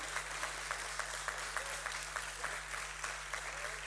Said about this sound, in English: Can we have another loud round of applause